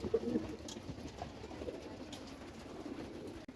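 Pigeons at a loft cooing softly, a brief low coo near the start over faint ambient background, the rest quiet and distant.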